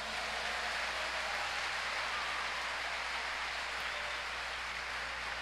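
A church congregation applauds in a steady, even wash of clapping that sounds like rain and holds at the same level throughout.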